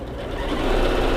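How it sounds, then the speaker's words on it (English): A sewing machine stitches a holiday mini quilt, running in a steady, rapid mechanical whir close to the microphone and gradually growing louder. "We're sewing."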